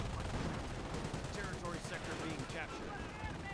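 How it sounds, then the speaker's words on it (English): Mortar pit shelling a bunker in the Company of Heroes strategy game, with rapid overlapping blasts and gunfire-like bursts forming a dense, continuous barrage of battle noise that stays loud throughout. "this mortar because it's just going to keep pounding away at that bunker"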